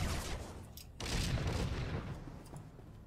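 Gunfire in Star Wars: The Old Republic, a dense burst of shots and blasts that eases off into a murky, noisy background over a few seconds.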